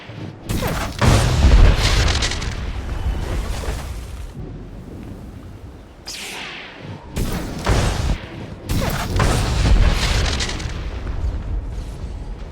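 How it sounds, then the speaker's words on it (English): Deep, rumbling artillery booms from the Star Wars: The Old Republic assault on Tython, several heavy blasts in a row with rolling low-end roar and debris crackle, loud and sustained, with no talking. "Enemy artillery is going to make any large-scale deployments very messy."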